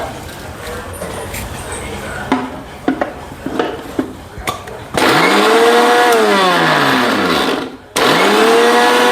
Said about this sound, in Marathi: आपण ते मिक्सरला ग्राइंड करून घेऊ